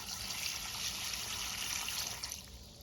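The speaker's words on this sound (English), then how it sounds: "you can see the water percolating out the bottom of the gutter here pretty well" Water from a poured bucket trickles and percolates out the bottom of a rain gutter into a small rock-lined French drain, a steady close hiss of running water that fades slightly at the end.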